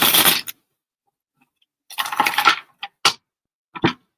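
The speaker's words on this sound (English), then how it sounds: "Give it a couple shuffles on this deck" A deck of oracle cards gets a few quick shuffles, giving short crisp riffling bursts separated by silence, close and clear.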